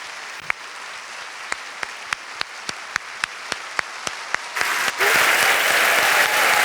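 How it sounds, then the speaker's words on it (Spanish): An audience at the Montevideo International Book Fair welcomes Isabel Allende with a few scattered, spaced claps that suddenly erupt into loud, dense, continuous applause. "les pido un enorme aplauso para Isabel Allende"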